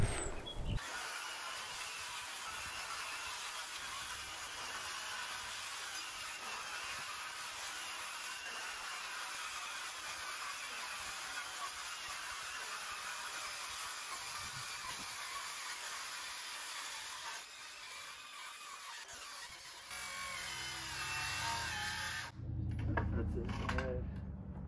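A 6 1/2-inch cordless brushless circular saw rips through wood in one long, even cut, a steady hissing whir lasting about twenty seconds before it stops and a few handling thumps follow.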